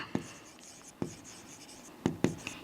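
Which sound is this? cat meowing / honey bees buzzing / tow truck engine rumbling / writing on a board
writing on a board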